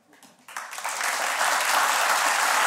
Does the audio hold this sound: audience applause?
yes